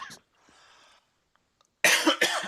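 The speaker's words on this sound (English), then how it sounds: "Cough." A single sharp cough bursts out near the end, loud and close, followed by a second quick cough, after a faint earlier throat sound and a stretch of quiet.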